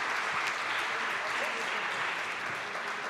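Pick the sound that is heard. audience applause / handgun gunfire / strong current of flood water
audience applause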